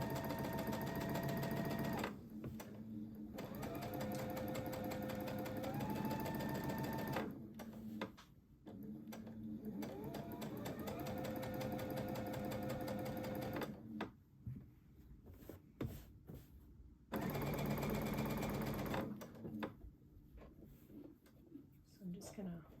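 A sewing machine stitches a neckline seam in bursts of rapid, even whirring, stopping and starting several times with quiet pauses between runs.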